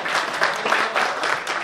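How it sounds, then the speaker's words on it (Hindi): An audience gives loud, sustained applause, a dense and evenly textured roar of many hands clapping close by throughout with no talking. "हरी साहब के लिए एक बार जोरदार तालियां बजा रहे हैं"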